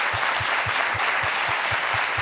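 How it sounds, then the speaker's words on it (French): Steady, dense applause from a crowd, with a faint rhythmic low thumping underneath, continuous throughout. "On va applaudir pour Marie-Florence Gras."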